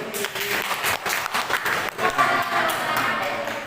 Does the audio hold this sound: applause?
yes